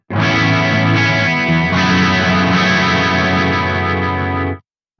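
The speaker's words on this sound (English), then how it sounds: "But as we introduce this in, you'll get a bit more of a chorus sound." Soldano SLO-100 X guitar amp with a chorus effect: a loud, distorted sustained guitar chord rings with a shimmering, swirling modulation, a second chord follows partway through, and it cuts off abruptly near the end.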